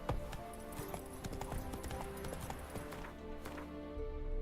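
Roach, a horse in The Witcher 3, trots along with a steady, fairly quiet clip-clop of hooves that continues without a break over soft background game ambience.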